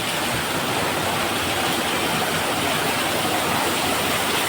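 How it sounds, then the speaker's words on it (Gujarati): Torrential monsoon downpour driven by wind, a dense, steady roaring hiss of rain that stays loud and unbroken throughout with no voices. "આજે વરસાદ છે, કંઈ બહુ જ વરસાદ પડી ગયો છે, સાથે સાથે પવન પણ છે"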